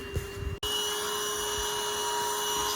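A vacuum hose runs with only the nozzle and no attachment, a steady close whooshing roar with a constant whine, preceded by a brief handling clatter and a sharp cut-in.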